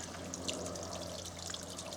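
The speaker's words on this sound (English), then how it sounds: "you've got the river Old Bourne here" The River Old Bourne near a footbridge on a countryside walk near Buntingford, low after summer, trickling and gurgling steadily at close range, quiet and continuous with faint high splashes and no talk.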